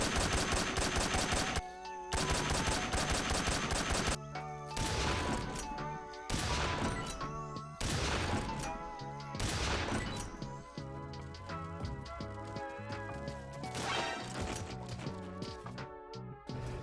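Continuous rapid gunfire in Metal Gear Solid 3 with unlimited ammunition: long sustained automatic bursts layered under loud, busy music, with brief breaks where sharp shots stand out.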